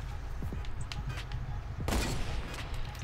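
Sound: gunshot in the video game Fortnite

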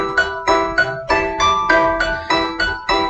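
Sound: phone ringing from Google Find My Device play sound

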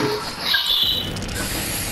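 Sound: spray tan being sprayed in video game Fortnite

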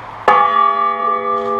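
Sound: church bell ringing

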